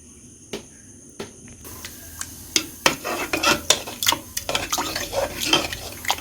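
A spoon stirring kanji, a rice porridge, in a pot, with scattered metallic clinks and scrapes against the pot growing busier and more rhythmic over a quiet background.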